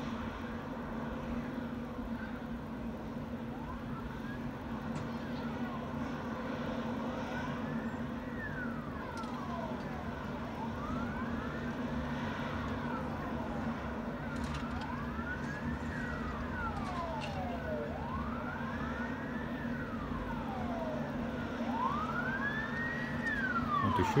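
Emergency vehicles with sirens arriving at a fire in a Krasnodar apartment building, their repeating rising-and-falling wails sweeping through a wide residential courtyard over a constant engine rumble and getting louder toward the end.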